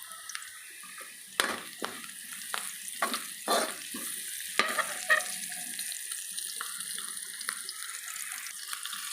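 A pan of aromatics sizzles softly on the stove before chicken liver goes in, a faint steady hiss broken by scattered clinks and scrapes of a utensil against the pan.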